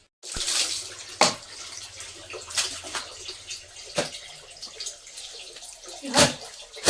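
Dishes and clothes are washed by hand under running water, with irregular splashing and sloshing and a few sharper knocks and slaps, fairly close and continuous.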